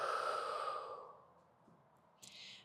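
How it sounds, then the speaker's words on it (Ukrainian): A long, audible exhale during a spinal-extension mobility workout, loud and breathy at first and fading over a second, followed after a pause by a sharp, brief intake of breath. "Вдих і видих."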